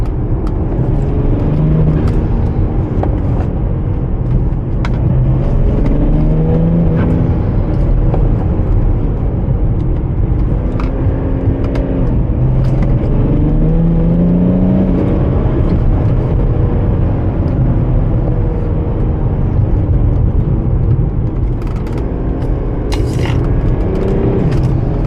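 An E90 BMW 335d diesel drives tight, technical mountain roads, its engine a steady loud drone rising and falling in pitch with throttle changes, with road and wind noise throughout and a few brief clicks and scrapes.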